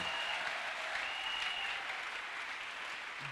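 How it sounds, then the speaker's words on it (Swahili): A church congregation claps their hands in steady, continuous applause that fills the room evenly, with a faint held musical tone in the background. "Unaweza kumchapia Bwana makofi."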